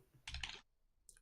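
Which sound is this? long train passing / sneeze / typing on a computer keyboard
typing on a computer keyboard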